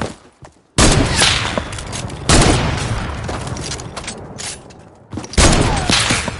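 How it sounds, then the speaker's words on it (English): Sniper rifle fire in the video game Call of Duty Black Ops, three loud, sharp shots spaced a couple of seconds apart, each followed by a lingering rumbling tail. "We're only using snipers right now,"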